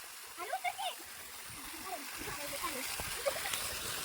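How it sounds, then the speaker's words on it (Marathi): Playful water splashing and gurgling from a turned-on water flow, with children's voices chattering over steady running water close by. "वॉटरचं त्यांनी चालू केलेलं आहे."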